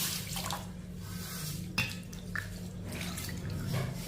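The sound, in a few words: water being poured onto ragi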